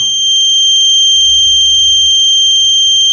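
A steady, loud electronic buzzer tone from a face mask detection system, sounding when no mask is worn, plays continuously, high-pitched and unbroken, with no voices.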